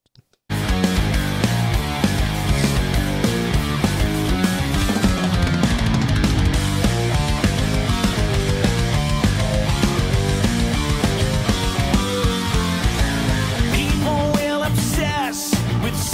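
Dream Theater's progressive metal song "Sleeping Giant" plays loud and dense, with driving rhythm and layered instruments throughout after a brief silent start.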